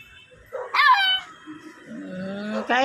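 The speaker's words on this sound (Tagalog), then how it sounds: "So ano kaya nangyari sa tuta na to, no?" A puppy whimpers and yelps in high, thin cries, with a longer whine at the start and another burst of cries near the end, close and fairly loud.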